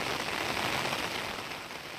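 Heavy monsoon rain pours steadily in a village, a dense, even hiss of drops on surfaces that stays constant and fairly close, with no voices.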